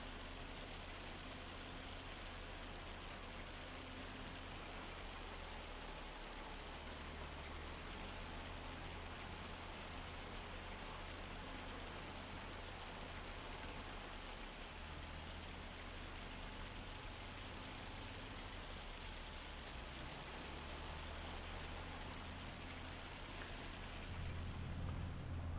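Steady rain falls in the Farming Simulator 25 video game, a dense, continuous hiss of drops lasting throughout with no voices.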